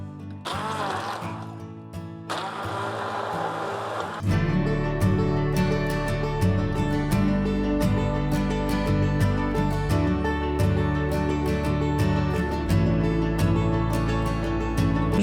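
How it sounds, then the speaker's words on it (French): Kitchen blender puréeing butter chicken sauce: a loud, steady motor whine with a rapid rattling of the blades that runs on without pause, alone, with no talk. "Je le mixe très finement parce que après on va le tamiser"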